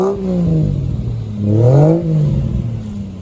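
A Mercedes 380SL with a swapped-in 1JZ engine and newly fitted exhaust revs twice, each blip rising and falling in a smooth, throaty sweep, close and loud with no talking.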